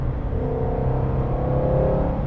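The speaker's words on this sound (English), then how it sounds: "This is exactly what a proper American engine sounds like" Ford Mustang Shelby GT350 with a flat-plane V8, its engine droning at a steady, loud rev with a sustained low rumble and layered harmonic tones, alone throughout.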